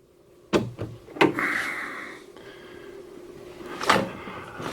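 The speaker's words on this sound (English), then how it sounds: "I'll open the door real quick" A car door opening on a vehicle with carpeted wheel-well areas: two sharp close clicks of the latch and handle, a short rattling release, then another louder clunk a few seconds later, all close and moderately quiet.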